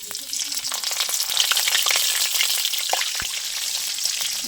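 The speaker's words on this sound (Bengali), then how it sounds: "রসুনটা একটু লাল লাল করে ভেজে নেব।" Chopped garlic fries in oil with cumin seeds and a broken chilli, a steady close, bright sizzle with crackling pops running throughout, no voices.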